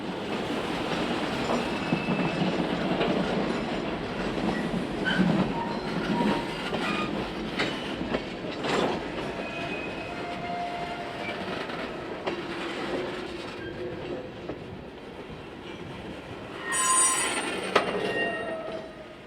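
A CSX freight train with a caboose rolls past on an urban branch line, a steady rumble of wheels on rails with clicking joints, occasional squeals and a brief high screech near the end, no talk.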